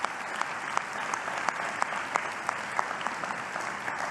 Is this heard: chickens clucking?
no